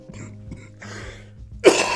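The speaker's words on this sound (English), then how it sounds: "I'm still getting over a cold, so I may be hacking and coughing during this thing" Person with a lingering cold clearing their throat and giving a harsh, sudden cough close to the microphone, after a quiet stretch with faint breathy sounds and a low background hum.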